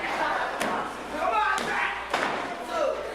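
Heavy thuds of a wrestler's knee drop slam onto the ring mat in a live indie wrestling match, with several sharp impacts heard under an excited commentator's voice.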